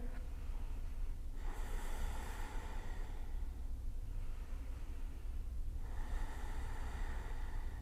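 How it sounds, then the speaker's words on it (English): Slow, deep breaths drawn through the nose during a yoga shoulder stand, close and audible, with long inhales and exhales repeating in a calm rhythm. "Take a few breaths here."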